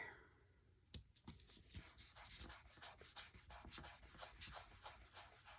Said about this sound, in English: I am going to just sand it a tiny bit.